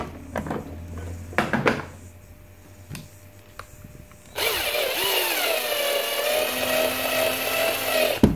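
A cordless drill fitted with a 1.5 mm bit bores into a flashlight driver PCB, running as a steady whining tone that shifts in pitch for about four seconds after some quieter handling clatter and taps.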